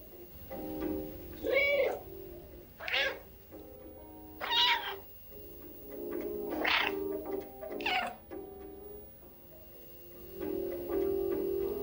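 A cat in the video game Stray meows repeatedly, about six distinct rising and falling calls spaced a second or two apart, clear and close against a quiet background with faint ticking.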